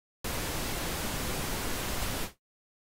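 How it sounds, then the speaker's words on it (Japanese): Darker, softer pink noise from a HALion 6 synthesizer, starting suddenly and holding an even rushing hiss for about two seconds before stopping with a short fade, heard alone. "ピンクは暗めのノイズですね。"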